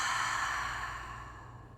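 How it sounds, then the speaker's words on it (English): One slow, deep exhale during a guided breathing practice, a soft airy breath that starts fairly full and fades gently over a couple of seconds, close to the microphone with no talking. "Inhale and exhale."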